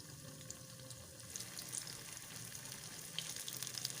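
Kashmiri chilli chops frying in oil over a medium gas flame, a soft continuous sizzle with faint crackles, quiet and steady with no talking.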